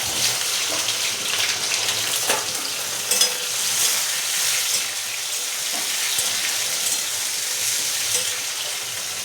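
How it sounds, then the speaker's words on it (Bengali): Pointed gourd and potatoes fry in oil in a pan, giving a constant bright sizzle with occasional stirring scrapes, heard nearby and without talking. "এই যে পটলগুলো একটু ভেজে নেবো, আলুগুলো ভেজে নেবো"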